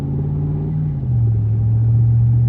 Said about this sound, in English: this is what the truck sounds like with the stock tires on it right now